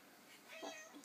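A house cat meows once in a home's nursery, a soft, fairly faint call at mid-length, heard alone against quiet room tone.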